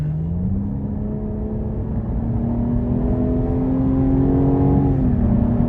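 A 2020 Cadillac CT6 Premium Luxury with the 3.6-liter AWD engine revving at high RPM on the interstate: a steady, rising engine drone climbs in pitch for several seconds, then eases slightly, heard from inside the car with road noise underneath.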